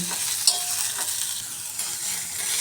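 Radish pods are stirred and roasted across a hot pan, giving a steady dry sizzle and hiss with light scraping of a spatula, no talk heard.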